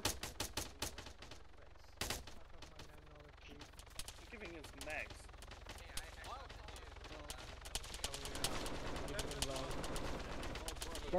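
Bursts of gunfire in the military game Arma, sharp cracks and rapid volleys at varying distances, some distant and faint, others close and loud, scattered through the stretch with a denser rattle near the end.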